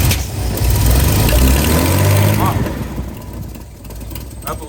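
A car engine runs with a rough, low rumble that eases and settles toward a steadier idle, with faint background voices.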